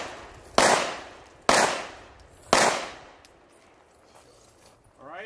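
Handgun shots fired at a shooting range during police-style training for actors: three loud, sharp cracks spaced about a second apart, each trailing off in a reverberating decay, followed by quieter range noise.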